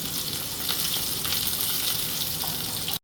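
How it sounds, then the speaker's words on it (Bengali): Half a teaspoon of cumin seeds frying in hot oil left from frying fish, a dense steady sizzle throughout, close and loud, with no voices, cutting off abruptly at the end. "জিরেটা আমার ভাজা হয়ে গেছিলো"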